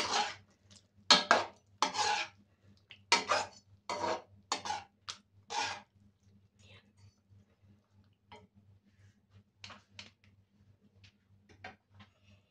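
A spoon scrapes and clinks against a cooking pot while laing is stirred with rice, a run of close, distinct knocks that thins out to sparse faint taps over a low steady hum.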